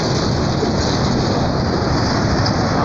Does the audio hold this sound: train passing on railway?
yes